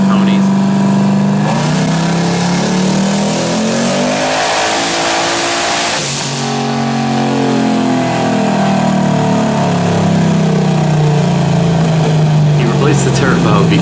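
A turbocharged Ford Mustang making about 800 wheel horsepower revs hard on a dyno, its loud engine note climbing to a high whining peak, dropping sharply, then rising again steadily.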